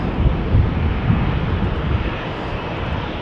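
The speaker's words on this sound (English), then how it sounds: "Here we have Lufti in the A319 to Frankfurt, flight 988" Lufthansa Airbus A319 airliner bound for Frankfurt at Amsterdam Schiphol, a loud, fairly close jet engine roar with low rumble and some wind buffeting, pulsing slightly then easing.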